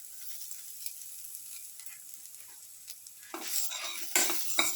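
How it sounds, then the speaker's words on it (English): Cumin, shallot and chili sautéing in a pan, a faint sizzle at first that grows louder as stirring picks up, with a few bursts of scraping utensil strokes toward the end. "sauteing"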